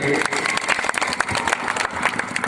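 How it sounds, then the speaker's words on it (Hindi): Dense, steady clapping from an audience at a poetry recitation fills the whole stretch, with scattered louder claps and a faint murmur of voices mixed in. "तो एक बार तालियां बजाइए फिर।"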